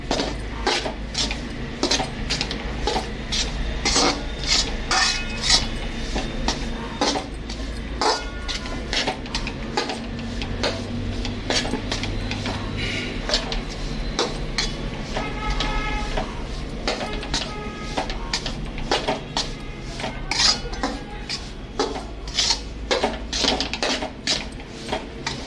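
A spatula scrapes and clatters steadily against a pan as wheat flour roasts in ghee over a low flame, a continuous busy metallic stirring with faint background noise.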